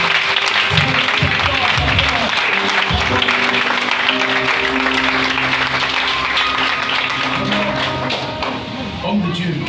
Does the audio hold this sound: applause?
yes